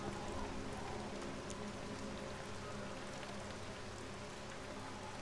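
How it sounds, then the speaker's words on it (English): Rain falls in the video game Everybody's Gone to the Rapture, a soft, even hiss of drops that stays faint and unbroken throughout. "it's been raining like this the whole time."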